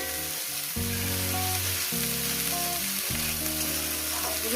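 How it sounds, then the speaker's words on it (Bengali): Small mourala fish fry in a pan with potato, green chilli and drumstick flowers, a continuous hissing sizzle running beneath loud melodic background music. "দিলাম দিয়ে এটাকে ভাজবো"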